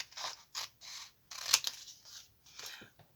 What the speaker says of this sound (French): Je vais faire les ciseaux.